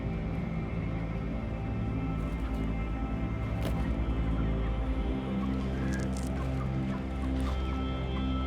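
Crowded farmed chickens suffering in an ammonia-laden shed, a dense, continuous din of many overlapping clucks and squawks, loud and close with no single bird standing out.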